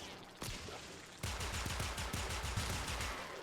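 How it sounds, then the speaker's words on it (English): Rapid heavy gunfire from a heavy gunner enemy in the Warframe video game, a dense continuous burst of automatic shots that starts abruptly and keeps hammering loud and close, with no talk over it. "There's that heavy gunner that's firing away."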